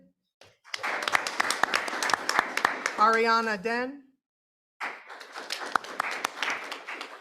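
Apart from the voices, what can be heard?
audience clapping for students at a board meeting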